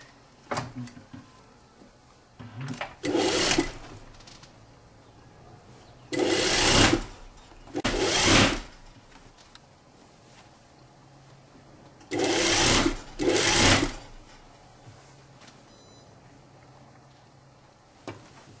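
Sewing machine stitching a seam on a belted tunic shirt at a 1 cm allowance, heard as several short, steady whirring bursts separated by quiet pauses, loud and close.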